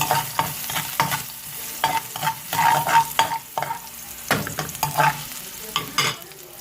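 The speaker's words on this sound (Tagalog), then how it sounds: "Maggisa na po tayo. Unahin ng luya." Ginger sautéed in a pan for Kapampangan laing sizzles steadily while a utensil stirs and scrapes it in repeated bursts, close and alone with no talk.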